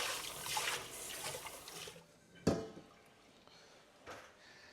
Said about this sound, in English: Then I need to wash out the pot.